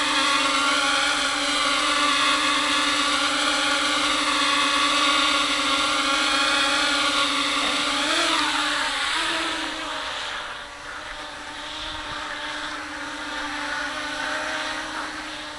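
A 200-size quadcopter hovers nearby, its motors holding a steady, high-pitched whine that shifts briefly in pitch mid-flight before settling again, with no talk.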